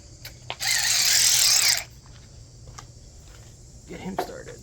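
A ratchet tightening a screw on a 2001 Toyota Solara turn signal lens, a single loud burst of rapid clicking ratchet strokes lasting about a second, then a quiet workshop with faint handling sounds.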